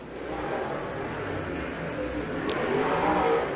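A late model race car's engine revs steadily on a clay track at the Albany Easter Grand Prix, a continuous loud drone that rises slightly toward the end.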